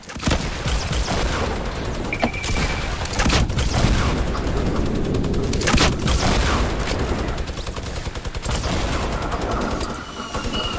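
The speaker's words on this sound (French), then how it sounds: "Ah, y'a une mitrailleuse là." Machine gun fire in an online 50 vs 50 shooter game, rapid sustained bursts crackling loudly and continuously, mixed with heavier booms and scattered distant shots throughout.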